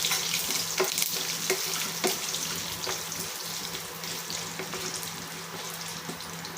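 Curry leaves and dried chillies frying in hot oil, a steady close sizzle with crackling pops throughout, no talking.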